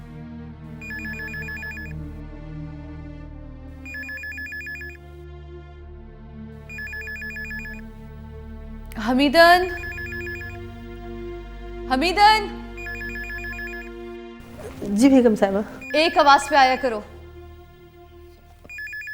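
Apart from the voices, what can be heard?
telephone ringing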